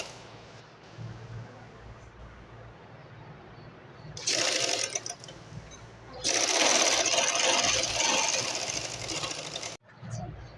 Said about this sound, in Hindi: आधे इंच की सिलाई इस तरह से चला देंगे